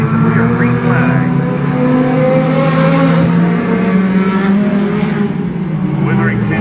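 Race cars roaring together at the start of an 8-lap heat race at Hattiesburg Speedway, a loud sustained engine drone with shifting pitch throughout, mixed with a voice talking over it.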